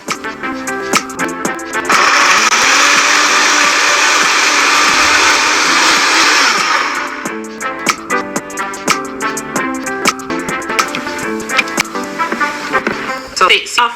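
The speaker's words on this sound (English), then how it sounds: "the next step is to blend to a really smooth puree, which is going to be so perfectly smooth that it will not require straining" A blender purees cooked vegetables, including carrots, into a smooth thickener for a Ghanaian light soup. It gives a loud, steady whirring roar for about five seconds and then stops, followed by kitchen clatter.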